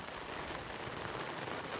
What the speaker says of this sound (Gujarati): મિત્રો વરસાદી જો ચાલુ થઈ ગયો છે જુઓ તમે એકવાર